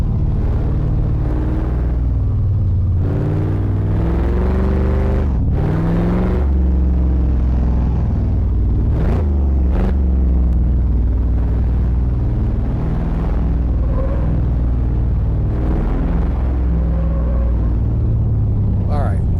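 A 1966 Ford Mustang fastback 2+2 coasting with the throttle released, giving a steady low engine and road rumble that runs throughout at close range, with faint voices under it.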